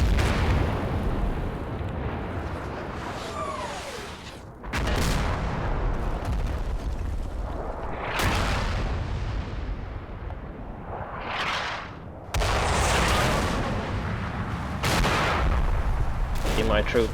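Artillery fire from the Soviet side in the World War II video game Combat Mission Red Thunder, with repeated loud booming blasts and rumbling, roaring explosions recurring every few seconds over a steady background of battle noise.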